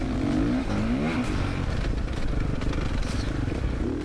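A 2027 Honda CRF450R motocross bike rides a GP circuit, its engine droning steadily with rising and falling pitch sweeps as it revs through gears, loud and continuous, with wind and a faint chattering edge.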